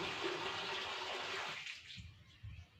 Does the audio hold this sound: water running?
yes